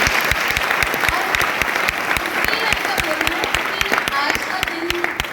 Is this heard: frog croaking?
no